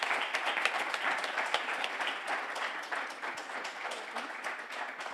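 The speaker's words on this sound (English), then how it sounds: "Let's give them a round of applause." Steady audience applause after a panel discussion at a Brown v. Board of Education commemoration, a continuous wash of many hands clapping at moderate level throughout, with no talk.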